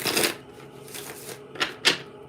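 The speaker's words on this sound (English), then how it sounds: "I got another shuffle here." Oracle cards being shuffled in quick riffling bursts, a longer flurry at first and then two short sharp snaps, close by with no voices.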